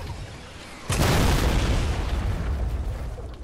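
A guided missile explodes in Fortnite Battle Royale with a sudden deep boom. The blast leaves a long, loud, rumbling roar that slowly fades, with no voices over it.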